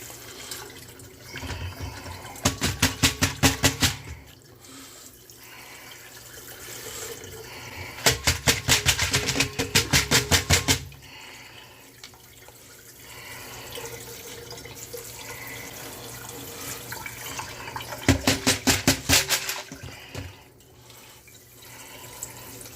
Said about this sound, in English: I'm actually washing some of them down the damn drain there.